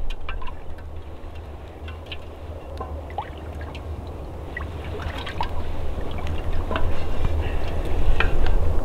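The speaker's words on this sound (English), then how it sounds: "I have to give it a stir." Cowboy coffee is stirred in a pot over a winter campfire on a mountain, making soft liquid swirls and faint clinks over a low steady background that grows louder toward the end.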